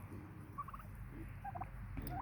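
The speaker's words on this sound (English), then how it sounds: "I'm sitting here surrounded by turkeys" Heritage turkeys in a small homestead flock gobble nearby, several short warbling bursts spread across a couple of seconds over a low background rumble.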